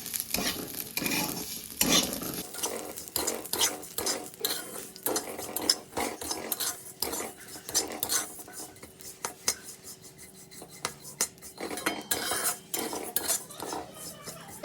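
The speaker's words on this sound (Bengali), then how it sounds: "সাময়টা আমি এবার ভালোভাবে ভেজে নেবো" Dough pieces frying in ghee in a wok, a continuous sizzle broken by repeated scraping and clinking of a metal spatula as they are stirred and turned, close and fairly loud.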